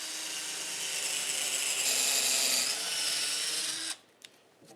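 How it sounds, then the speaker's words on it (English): A power drill with a 3/8 inch bit bores holes into wooden sign posts, a steady high whine lasting about four seconds, close and loud, then stopping abruptly with a couple of small knocks after. "we have to drill the 3/8 inch holes first"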